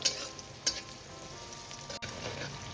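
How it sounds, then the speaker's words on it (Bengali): Onions fry until brown, a soft, even sizzle throughout with a couple of brief clicks of stirring, fairly quiet and without talk. "তা দেখো পেঁয়াজটা আবার আমি একটু ব্রাউন কালার করে ভেজে নেবো"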